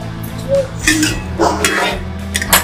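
A metal lid is lifted off a cooking pot of steamed prawns cooked with green chilli paste, giving a few close clinks and a light clatter of metal against metal, with no talking.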